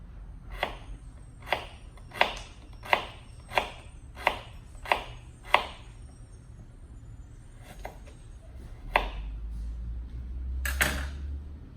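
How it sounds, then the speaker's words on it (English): A knife slices a vegetable on a cutting board in a run of about eight crisp, evenly spaced chops, then a pause and a few more scattered cuts and board knocks, close and clear with no speech. "And then I'll just cut slices."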